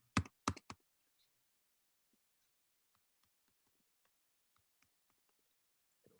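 Passphrase being typed on a computer keyboard: three sharp, close keystrokes in quick succession open the passage, followed by a long stretch of sparse, faint taps in near-silence.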